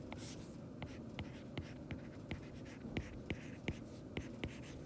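Marker or chalk writing on a board during a physics lesson on inclined planes, a run of short, sharp tapping strokes in an uneven rhythm with a faint room hum beneath and no talking.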